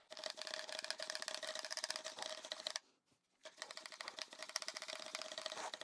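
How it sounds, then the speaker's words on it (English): A mini hand pump inflates a 25 mm bicycle tyre, quick rhythmic strokes of air and plastic clatter repeating close by, pausing briefly once before resuming at the same steady pace, quiet overall and with no voices. "let's see how long it takes to pump it up and whether I can even get to those sort of pressures with this mini hand pump"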